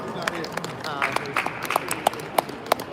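Applause from the crowd at a boxing fight-week press conference, scattered claps standing out as sharp hits over a murmuring room, with voices talking underneath.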